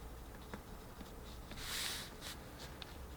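Pencil sketching on paper before a watercolor painting of a mountainside village, faint scratchy strokes in short bursts with one longer, louder scribble in the middle.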